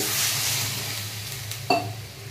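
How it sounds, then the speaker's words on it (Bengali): Water is poured into a sizzling frying pan, a loud hissing rush that gradually eases, followed by a brief sharp clink near the end. "এবার এর মধ্যে দিয়ে দিচ্ছি জল"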